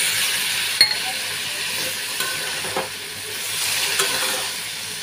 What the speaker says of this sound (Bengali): আমি চিনি দিয়েছি, এতে একটু জলটা দিয়ে দিলাম।